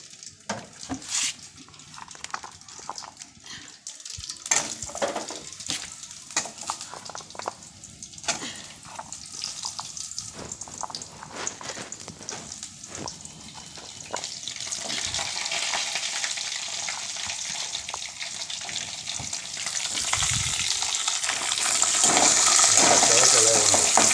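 Elephant foot yam sizzles in hot oil in a pan while a utensil stirs it, with scraping strokes giving way to a steady, strengthening fry hiss, and a voice speaks occasionally over it.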